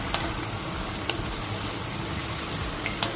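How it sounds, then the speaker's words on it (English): Minced meat for chilli con carne browns in a hot pan, giving a dense, even sizzle throughout with a few faint ticks of stirring. No speech. "I'm just going to brown this meat a little bit before I add the spices."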